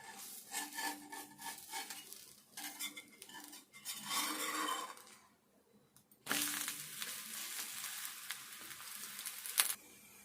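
Potato dosa sizzling and frying in a pan, a soft crackling hiss that fades, goes quiet, then returns louder and steady; no voices.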